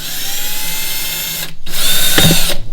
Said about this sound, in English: first I'm going to drill 2 holes on each side of the top of the bottle.